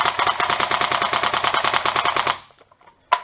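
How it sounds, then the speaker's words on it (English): GSG G14 EBB AEG airsoft gun fired rapidly: a fast, even string of about twenty close, loud mechanical shots that stops, then one more sharp click or shot after a short gap. "you can rapid fire the gun without jamming up the trigger either"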